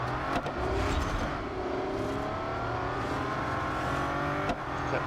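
Bugatti Centodieci racing in Real Racing 3, a continuous high engine whine rising and falling through gear shifts and braking, steady and fairly quiet, with no speech over it.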